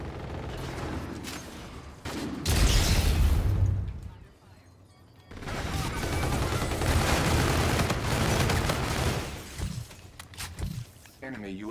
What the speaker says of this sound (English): What gun is this? The NV4. This is that assault rifle.